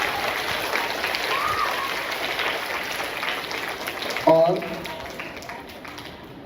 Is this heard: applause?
yes